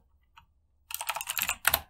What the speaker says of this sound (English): I'm going to type in npm install